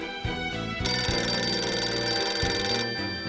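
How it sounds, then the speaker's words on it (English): A telephone bell rings in one sustained bright burst lasting about two seconds over a low musical background, with no talk. "Could someone please answer the phone already? Or unplug it, I don't care, just stop that horrible ringing sound"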